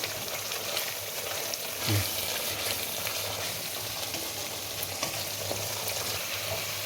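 Spice paste with garam masala fries in a pan for a Bengali doi katla, a continuous soft sizzle with faint stirring and one brief knock, steady and fairly quiet throughout.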